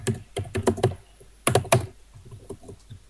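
Keys on a computer keyboard clatter in two quick bursts of typing, a command entered for a multiplayer game server, close and crisp with pauses between keystroke runs and no talking.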